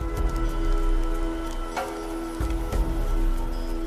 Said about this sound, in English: Rain in the valley gives the boys a harsh wake-up call.